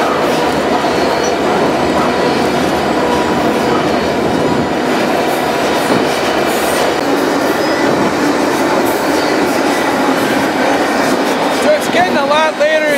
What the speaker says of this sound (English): this is a lot of grain, or soybeans, or corn that you can put on this train right here, here in the North Dakota countryside